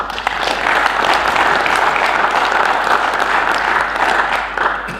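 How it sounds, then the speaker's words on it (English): A crowd at an opening assembly gives a warm round of applause for the organizers, a broad, even roar of clapping that holds steady before easing slightly at the close. "I think they really deserve a round of applause"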